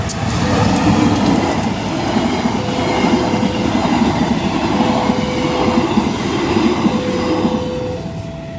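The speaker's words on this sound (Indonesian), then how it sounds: "lewat JPL tadi yang ada komuter lain dulu lewat" A commuter train rolls past a railway level crossing, a loud, close, sustained rumble of wheels on track with a faint tonal crossing signal or squeal ringing intermittently through it.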